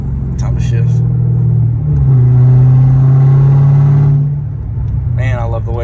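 A deep, loud V8 rumble from a 2021 Dodge Challenger Hellcat swells into a sustained rev, holds, then drops back, with a voice talking over it.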